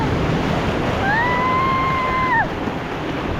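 Sea waves wash onto a beach in a steady roar with wind noise. A faint high whistling tone rises and holds for about a second and a half partway through.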